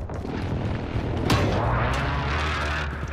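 Precision airstrike explosions in Call of Duty: Modern Warfare, a sustained loud rumbling barrage of booms with one sharper blast near the middle and another hit at the end, continuous low roar throughout.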